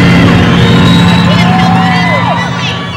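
Loud crowd at a Denver roller derby bout, cheering, whooping and shouting together in a roaring wash with a steady low hum beneath, easing off slightly toward the end.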